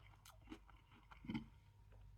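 Close, quiet crunching and chewing of crisp multigrain chocolate ball cereal, a few crackly bites with a louder crunch near the end, no talking.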